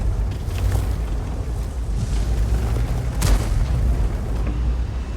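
Heavy tank cannon rounds from a tier 9 premium tank in the UDES 03 video game, booming low and loud over a constant rumbling engine drone, with a sharp burst near the middle.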